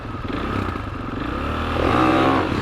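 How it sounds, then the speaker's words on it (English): A 450 and a 250 supermoto motorcycle launch in a drag race, engines revving loud and near and rising in pitch over a few seconds with no talking. "I'm gonna do a drag race against Mrs. Moto. 450 Ice Moto versus 250 beginner rider"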